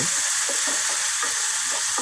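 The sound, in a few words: round potato slices frying and being stirred in pan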